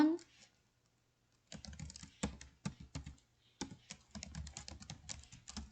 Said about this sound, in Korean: 이제 글자를 입력해 볼게요